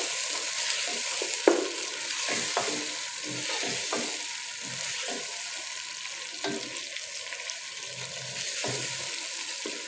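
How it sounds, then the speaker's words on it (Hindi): Spices and half a cup of yogurt frying in a pot for chicken biryani give off a steady broad sizzle, with several sharp scrapes and clinks of stirring scattered throughout, close and moderately loud, no voices. "हाफ कप मैंने लिया दही और इस मसालों को इन सबको अच्छी तरह से भून लेंगे।"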